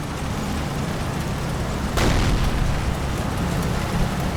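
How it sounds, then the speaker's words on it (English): A Panzer IV tank fires in the video game Combat Mission Battle for Normandy, one sharp boom cutting through a dense, constant battle rumble, with no voices. "So we've got a Panzer IV firing back."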